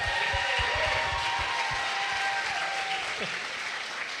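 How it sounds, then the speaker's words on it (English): Audience at a charity auction giving a round of applause, thick continuous clapping that stays loud and even from start to finish. "Round of applause for these two."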